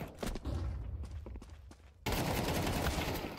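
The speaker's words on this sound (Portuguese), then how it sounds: "primeiro nos disparos, o Felpeira eliminado pelo Urbano" Gunfire sounds in a Counter-Strike style esports match from the ESL Challenger League, with scattered shots and impacts followed by a sudden dense burst of rapid firing, and no talk.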